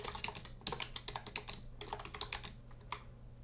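Typing on a computer keyboard, a close, quiet run of light plastic key clicks in an uneven, quick rhythm with brief pauses, heard alone.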